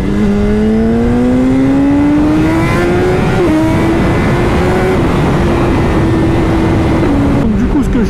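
Tuned BMW S1000RR motorcycle making over 200 horsepower, its engine pulling hard through rising revs with quick gear shifts, a loud close-up howl.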